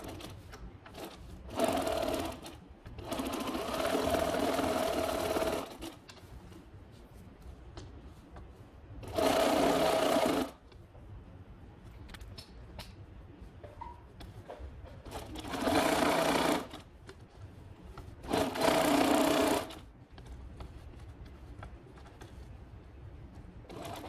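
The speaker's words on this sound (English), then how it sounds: "Okay, now I start to catch this additional fabric." An industrial sewing machine stitches a 3/4 European hem on custom-made drapery fabric, running in four or five loud whirring bursts of a few seconds each, separated by quieter pauses with faint handling noise.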